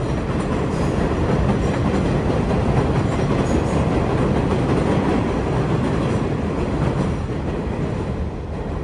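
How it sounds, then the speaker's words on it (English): An elevated New York City 7 subway train thunders past overhead in a loud, continuous roar of rumbling wheels and rhythmic rail clatter that barely eases toward the end. "Now we are underneath the 7 train."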